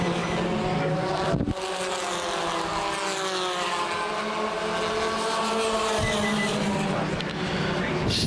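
Compact touring race cars roar around Winchester Speedway during a championship race, engines droning loudly and continuously with rising and falling pitch as cars pass, wind buffeting the microphone throughout and a commentator talking over it.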